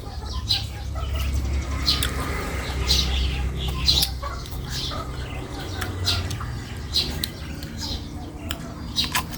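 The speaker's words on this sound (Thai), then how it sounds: "เสียงไก่" Chickens cluck and chirp outdoors among scattered bird calls, over a continuous low rumble of background noise.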